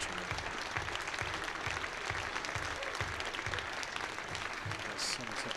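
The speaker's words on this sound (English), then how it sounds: "That's Somerset past the 100 mark, which is gratefully received by the Taunton crowd with a nice ripple of applause" A Taunton crowd at a Somerset versus Essex County Championship cricket match gives a steady ripple of applause, moderately distant clapping that holds throughout.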